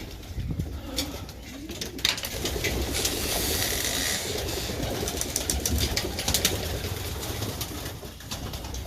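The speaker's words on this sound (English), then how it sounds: "almost no birds out in the aviary" Pigeons in an aviary coo at breakfast time, repeated soft throaty calls close by over a continuous low background rumble.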